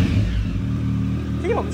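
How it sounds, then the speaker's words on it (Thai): A black Triumph Speed Triple 1050 motorcycle idles with a deep low rumble close by, then its engine is briefly revved, rising in pitch near the end as someone speaks over it. "เดี๋ยวลองเร่งเครื่องดู"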